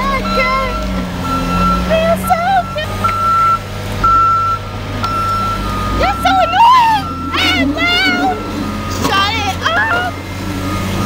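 A green truck at a construction site sounds a steady series of loud reversing beeps over a rumbling engine, with people talking and exclaiming over it.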